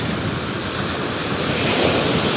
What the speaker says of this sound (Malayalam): പെട്ടെന്ന് തിര വന്ന് കാലിന് ഇതായേ